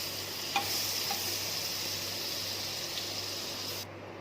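Butter and ghee melt in a pan for carrot tomato soup, a steady, even sizzle and hiss from start to finish, close up and with no talk over it, cutting off abruptly at the end.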